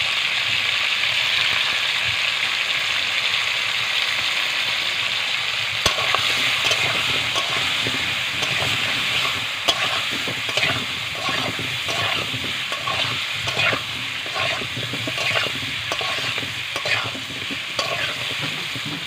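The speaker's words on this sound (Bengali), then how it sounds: "নুন দিয়ে আলুগুলোকে ভেজে নেব।" Potato pieces frying with salt and turmeric in a pan fill the clip with a steady, close sizzle. Repeated scraping stirs join in from the middle onward, and no one speaks.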